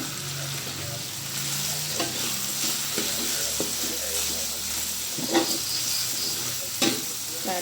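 Spices and meat sautéing in a frying pan for a Korean-flavoured nasi kuning topping, with a continuous close sizzle and repeated spatula scrapes and taps as the mixture is stirred.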